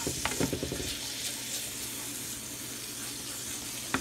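Garlic and seasonings sizzling in butter in a pan, with frozen blanched broccoli about to go in: a steady, close frying hiss broken by a few sharp pops and clinks near the start.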